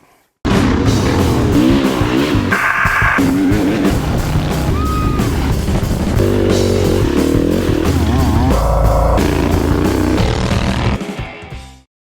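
Royal Enfield Himalayan 450 motorcycle ridden off-road on gravel county roads in Ohio, its engine loud and close throughout, rising and falling with gear changes and throttle over about twelve seconds of continuous riding.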